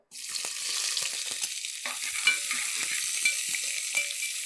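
Onions sauté in a pan on a low flame, giving a constant close sizzle that begins abruptly and holds steady, with soft stirring scrapes now and then.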